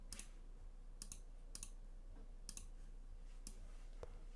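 Calculator keys pressed one at a time, sharp faint clicks spaced about half a second to a second apart with quiet pauses between, close and alone.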